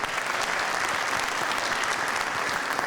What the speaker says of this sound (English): can we give one big round of applause and a thank you to Susie Kaiser